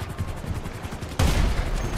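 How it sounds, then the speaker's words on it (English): Explosive-round gunfire in GTA 5 Online: a quick train of rhythmic shots, then a loud, booming blast that stays heavy and full to the end. "Explosive rounds"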